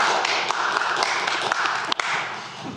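One person claps excitedly in a town council meeting room after a motion passes, a quick run of fairly close hand claps over a few seconds against a steady room hum.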